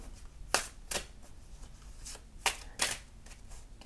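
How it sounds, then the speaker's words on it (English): Tarot cards being shuffled by hand, several short crisp riffling bursts spaced irregularly over a few seconds, close and clear against a quiet background. "I'll shuffle you another one."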